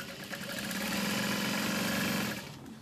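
A sewing machine runs steadily, stitching two bag lining pieces together with a half-inch seam, a close, continuous mechanical hum and rapid needle rattle lasting a couple of seconds before stopping.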